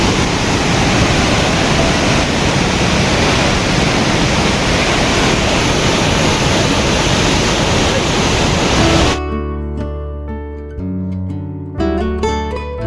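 A rain-swollen waterfall on the Madhyamaheshwar trek roars in a loud, steady wash of cold spray for about nine seconds, then cuts off abruptly into a different sound.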